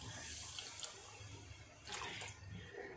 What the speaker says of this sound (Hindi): अब इसके अंदर मैं पानी डालती हूँ।